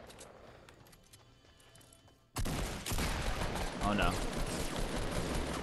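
Gunfire in the video game Fortnite erupts abruptly midway and continues as a dense, loud barrage of rapid shots filling the rest of the moment, with a player briefly exclaiming over it.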